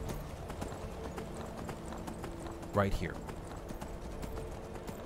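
Horse hooves clip-clop in a steady rhythm in the video game Skyrim, quiet under game ambience, with a brief spoken remark partway through.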